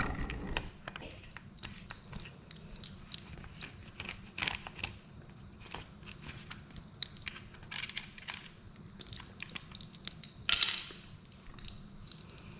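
A 5mm Allen key turns a screw on a bicycle bracket on a Specialized Demo8, giving scattered small metallic clicks and ticks with one brighter clink near the end, close and faint.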